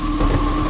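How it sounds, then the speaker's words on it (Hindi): Heavy rain pours down in a dense, steady hiss with a low rumbling undertone, loud and continuous with no voices. "अरे रे, इतनी बारिश क्यों हो रही है?"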